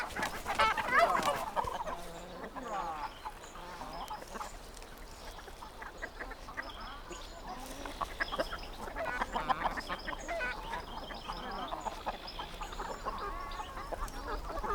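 Free-range chickens and other poultry on a smallholding in southern Spain's Doñana, clucking and calling continuously in a busy, overlapping chorus close by, with occasional duck-like quacks mixed in.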